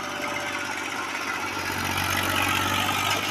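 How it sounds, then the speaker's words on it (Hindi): A Massey Ferguson tractor pulling a loaded trolley, its engine giving a steady, loud, close drone that holds throughout without a break. "मैसी फरगुसन की परफॉर्मेंस चेक करो ट्राले दे।"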